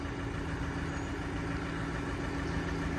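A Basak tractor engine idles steadily and close by as the tractor is unloaded, a continuous low hum with a faint mechanical drone and no talk.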